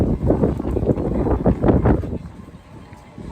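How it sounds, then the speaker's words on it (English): Outdoor wind gusting into the microphone at a toy swap meet, a loud low rumble for about two seconds that then eases off to a quieter background. "the wind's starting to blow"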